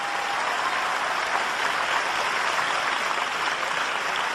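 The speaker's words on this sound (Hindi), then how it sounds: "वो काफी तालियां आपकी कम बज रही हैं" An audience at a Hindi-Urdu poetry mushaira claps in sustained, dense applause, an even wash of many hands lasting throughout without pause, no speech over it.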